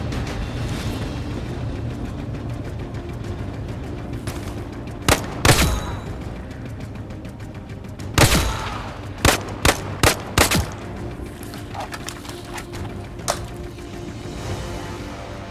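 Gunfire in the VR shooter Zero Caliber Reloaded: scattered loud shots and short bursts ring out over a steady background rumble, some clustered close together, others spaced apart.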